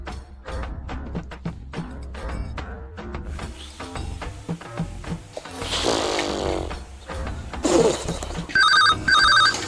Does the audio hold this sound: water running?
no